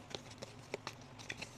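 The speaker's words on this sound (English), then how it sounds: "And let's do a little shuffling." Savings game cards being shuffled by hand, a series of quiet, crisp flicks and taps spaced irregularly over a second and a half, close and soft, with no talking.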